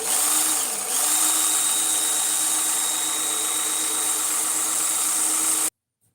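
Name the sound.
sharpening a knife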